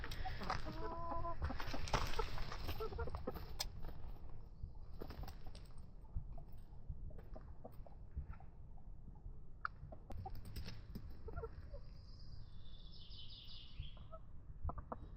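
Hens in a backyard chicken coop cluck and murmur on and off, with a few sharper calls mixed in. Other birds sound faintly in the background, all at a low, quiet level.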